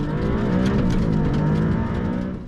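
A Maserati MC20 accelerates on a cold test track with frozen pavement and cold tyres, its engine a steady, loud roar that holds for a couple of seconds before starting to fade; nobody speaks.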